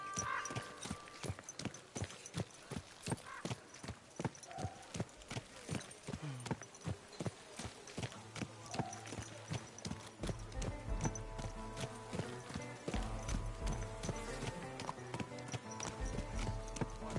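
Horse hooves clip-clop steadily in Kingdom Come Deliverance 2, a rhythmic trot of sharp repeated hoofbeats up close, with occasional whinnies and a low musical score rising underneath partway through.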